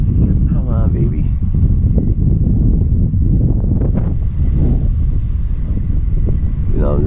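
Strong wind buffets a microphone outdoors while a small E-flite Piper Cherokee RC plane flies in very gusty conditions, a loud, constant low rumble with a few faint voice fragments underneath.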